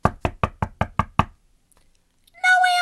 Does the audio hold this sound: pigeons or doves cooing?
no